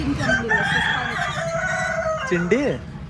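Chickens at a chicken shop crow and cluck up close, with a rooster's rising and falling crow standing out near the end over a steady background of overlapping fowl calls.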